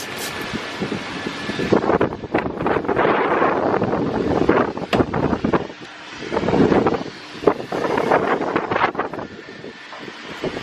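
Wind gusting around a parked Acura Integra during a wash, heard as loud, blustery microphone buffeting that swells and fades in waves for about ten seconds, with no talking.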